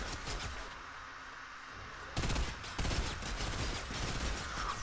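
Gunfire in the Fortnite video game crackles as a dense, continuous stream of shots that grows louder midway through and ends with a sharp burst, with no speech.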